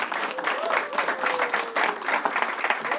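A crowd claps for an Assembly member at a public event, moderately loud and slightly uneven, with a voice briefly audible under the clapping.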